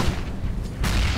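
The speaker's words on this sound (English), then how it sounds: "I'm throwing a flashbang!" A flashbang grenade goes off in CS:GO, a sudden loud burst near the end of a short stretch of rumbling game noise, close and bright with no voices over it.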